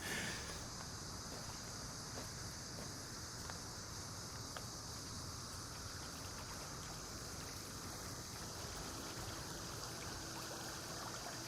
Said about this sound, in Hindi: पानी की आवाज सुन रहा हूं मैं।